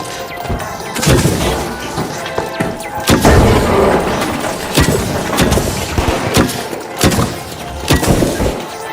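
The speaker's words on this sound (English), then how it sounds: "Grenade out." Grenade blasts and crashing debris in the game The Finals, several loud booming impacts with breaking and smashing noises spread across a busy firefight mix.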